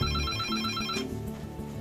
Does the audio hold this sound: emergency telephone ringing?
yes